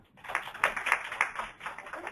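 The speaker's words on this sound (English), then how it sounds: "Clap if you were born after 1982." Scattered audience members clap at an architecture presentation, a light patter of hands that rises, wavers and thins out over about two seconds, fairly close and without talk.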